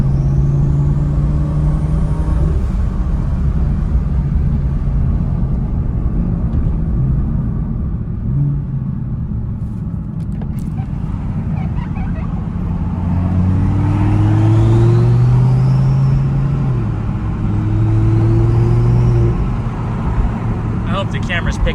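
A twin-turbo R8 sports car engine rumbles and surges under acceleration, with rising turbo whistles sweeping upward during the boost pulls, loud and close throughout.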